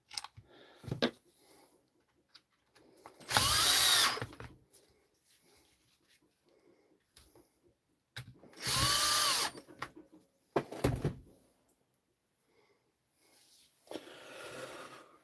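A Dewalt SDS hammer drill runs in two loud, close bursts of a few seconds each, with shorter clicks and brief revs between them and quiet pauses in between.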